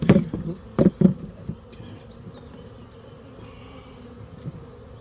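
Honeybees buzzing close by during a hive inspection with bucket feeders, a steady insect drone under a few loud knocks and bumps of handling the hive in the first second or so.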